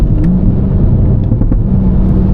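A manual Toyota Supra held at full throttle in fourth gear on a dyno, a loud, close, steady engine roar and rumble sustained for a couple of seconds without letup.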